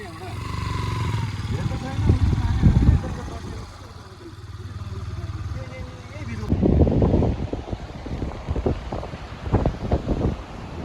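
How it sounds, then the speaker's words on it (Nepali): Gusty cold wind buffets the microphone outdoors on the trekking trail to Tilicho Lake in Manang, Nepal, with low rumbling surges and bursts, while people talk intermittently over it. "सही चिसो हावा लाग्छ है यहाँ।"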